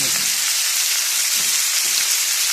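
Onions and potatoes frying in a pan give a loud, dense, close hiss of sizzling oil that continues unbroken, with faint stirring under it.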